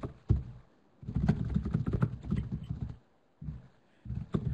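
Typing on a computer keyboard, close bursts of rapid clicking keystrokes separated by short pauses, alone with no talk.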